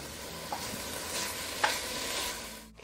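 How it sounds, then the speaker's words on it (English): Ground beef browning in a pan for a fall vegetable soup, a steady soft sizzle with occasional stirring scrapes, close and quiet, no voices. "Now I'm going to brown my ground beef until it loses its pink color."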